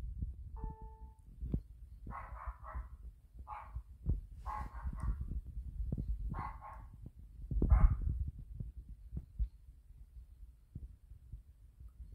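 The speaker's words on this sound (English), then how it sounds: "bark like a dog." A smart speaker plays a recorded dog barking, a series of short barks in quick bursts over a low background hum, with a single tone chirp near the start.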